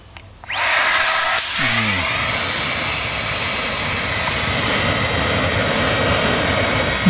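An Asda own-brand Swedish torch is lit with a gas torch that bursts into a loud, steady roaring hiss after a short quiet moment, holding close and strong throughout with a faint high whistle.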